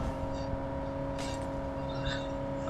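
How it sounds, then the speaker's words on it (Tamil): A vehicle in the PUBG video game is driven along with a steady, droning engine hum and rumble that runs unbroken throughout, with a brief brighter swell in the middle and no clear talking. "சீக்கிரம் வண்டியை கிளப்புங்க"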